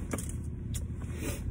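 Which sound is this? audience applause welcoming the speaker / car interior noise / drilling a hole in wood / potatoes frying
car interior noise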